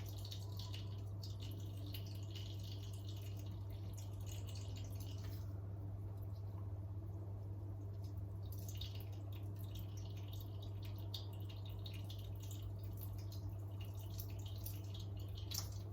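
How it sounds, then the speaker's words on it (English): Liquid containing seeds drips through a sieve into a container below, faint irregular drips over a steady low hum in a quiet room. "Now hopefully some of the seeds are dripping in here, but hopefully the sieve will catch them all, and we'll have a nice clear liquid underneath."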